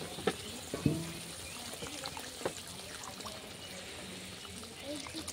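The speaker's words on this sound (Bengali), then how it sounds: "এই পর্যায়ে এখানে আমি দিয়ে দিচ্ছি জল।" Water poured into a pan of Bengali fish curry over spiced, softened tomatoes, a faint trickling stream with a few small clinks near the start, quiet and close under low room noise.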